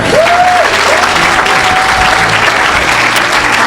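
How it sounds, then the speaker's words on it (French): A church congregation applauds and acclaims the Lord, with loud, dense, sustained clapping filling the room continuously, and a voice calling out briefly over it. "Acclamez le Seigneur."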